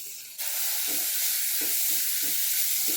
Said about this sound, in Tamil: நல்லா லோ ஃப்ளேமில் வச்சு நெல்லிக்காயை வேக வச்சிடலாம்